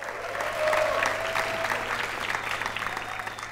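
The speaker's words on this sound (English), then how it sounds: "Give them one more round of applause here" An award-show audience claps for finalists on stage, a sustained round of applause from a large crowd, swelling early and then holding steady.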